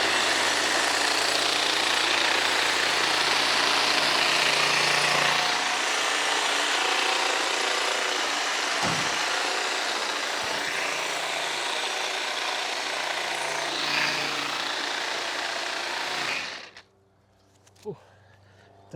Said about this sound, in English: I'm going to try to kind of comb these forward as I trim